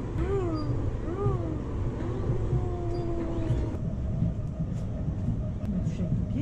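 Inside a moving RER commuter train, a steady rumbling drone fills the carriage, with wavering squeals early on and faint clicks over the running noise, and quiet talk in the background.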